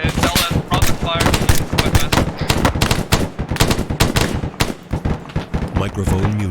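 Rapid automatic gunfire in the military video game ArmA 3 rattles in dense, loud bursts almost without pause, mixed with heavier booms, while voices talk over the shooting.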